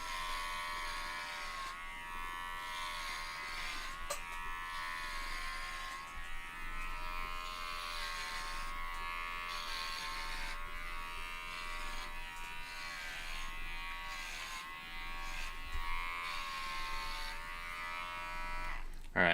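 Electric clippers shave a cat's fur: a steady, close, continuous buzz that runs unbroken for the whole stretch, with a person talking quietly over it.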